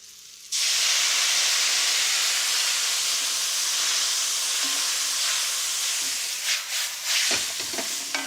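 Sauce poured into a very hot pan sizzles and hisses loudly and steadily, starting abruptly and holding for several seconds with faint stirring clatter near the end.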